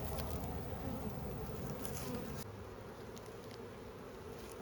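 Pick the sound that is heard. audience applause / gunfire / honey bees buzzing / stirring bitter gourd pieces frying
honey bees buzzing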